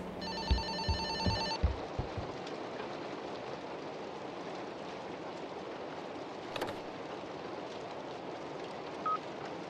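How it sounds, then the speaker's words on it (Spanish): An old telephone rings in the horror game Fobia – St. Dinfna Hotel, with a brief bright trill in the first two seconds before it fades into a quiet, rain-like ambient hiss. "¿Está sonando un teléfono?"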